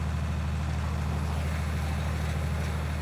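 Tractor engine in the video game Farming Simulator 19, a steady low diesel hum and drone running continuously at even loudness with no talk.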